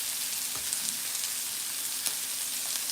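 Corn and green onions frying in an oiled pan, giving a continuous bright hiss with a couple of soft pops, close and alone, with no talking.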